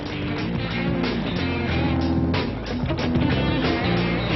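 A nitromethane-fuelled dragster engine roars loud and unbroken, a thick, rough, low blare with pulsing texture that stays at full strength throughout.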